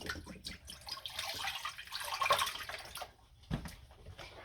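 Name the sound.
pouring chicken broth into a pot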